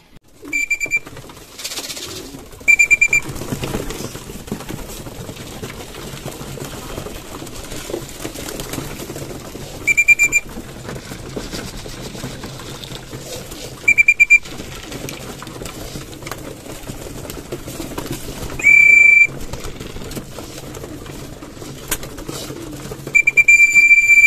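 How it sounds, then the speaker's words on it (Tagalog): Pigeons coo while eating feed. Short, bright calls recur every few seconds over a steady low background murmur, and no one speaks. "So ayun, kumakain na yung mga ibon."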